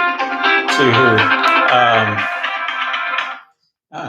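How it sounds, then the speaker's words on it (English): A phone rings loudly during a live broadcast Q&A for a solar panel cleaning business, an electronic ringtone that plays for several seconds, stops, then briefly starts again. "phones are ringing even when we're doing live broadcast"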